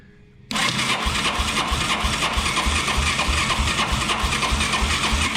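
A Kawasaki motorcycle engine cranks with a little throttle applied, a loud, steady chugging that starts abruptly after a quiet moment and keeps a fast, even rhythm without catching.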